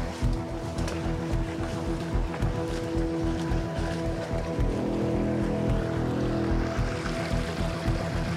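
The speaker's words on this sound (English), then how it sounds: "It's a little waterfall." Steady rushing roar of a small waterfall flowing in a remote wild setting, a continuous loud wash of water with dense low rumble, nearby and unbroken, with no voices.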